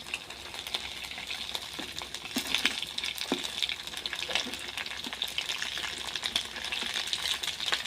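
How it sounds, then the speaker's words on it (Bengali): Potato cutlets made with bread and cheese fry in a pan over medium heat, giving a steady, close sizzle with scattered crackles and pops and no voices. "লাল লাল করে ভেজে নিতে হবে"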